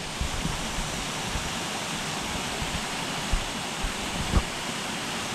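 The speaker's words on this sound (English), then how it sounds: "oh, you another waterfall up in there" A waterfall at Pito Water Fall in St. Lucia pours in a steady, broad hiss of falling water, continuous and moderately distant, with a few faint knocks over it.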